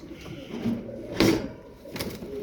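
Feather-footed milk-white tumbler pigeons make low, soft cooing sounds close by, with a couple of brief louder bursts of flutter or movement amid the steady murmur.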